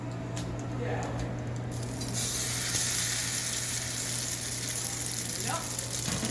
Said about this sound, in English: I'm going to bring my pan right over and drop this in